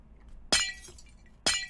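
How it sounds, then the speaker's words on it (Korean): Glass shattering in the Minecraft video game, two sharp breaking crashes about a second apart, each with a bright tinkling decay, with no talking. "왜 유리 깨지는 소리가 나는데?"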